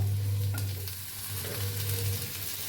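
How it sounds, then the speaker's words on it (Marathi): Whole spices and tomatoes fry in a pan while being stirred, a soft steady sizzle with scraping stirring strokes, close and fairly quiet. "सगळे खडे मसाले घेतले होते ते भी ह्याच्यात भाजून घेऊया, हलवून घेऊया."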